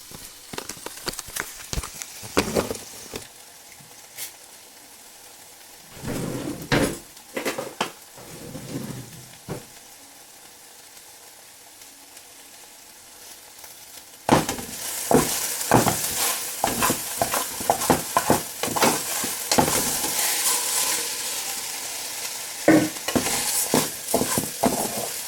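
Long grain rice is stirred into a chicken and chickpea pilaf mixture, giving scraping spoon strokes and knocks against the pot. A sizzling bed runs underneath, quieter at first and then louder and busier in the second half. No one speaks.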